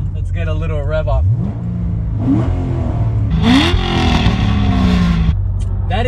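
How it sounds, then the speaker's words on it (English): A Corvette C6 Z06 engine revs up in sharp rising blips, climbing and falling again, loud and close with a rumbling idle underneath and a voice speaking briefly between revs. "Let's get a little rev off."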